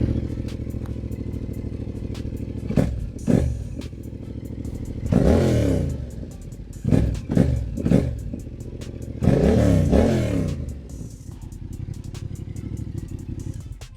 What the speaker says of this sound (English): So let's start the bike. Let you guys hear it. It does pop a lot.